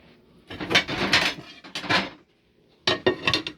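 A plate being fetched in a kitchen: three bursts of clattering dishes and rattling crockery, close and fairly loud, separated by short near-silent gaps, with no talking.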